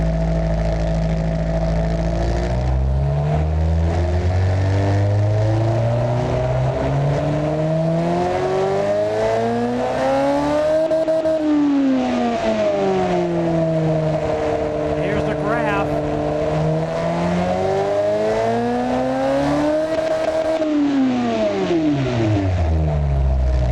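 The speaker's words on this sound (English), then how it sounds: "So there you go. It's a loud engine. That engine is loud." In the Automation car game, a loud unmuffled engine revs up and down in long sweeping cycles, droning and rising to two high peaks. A voice speaks over the engine noise.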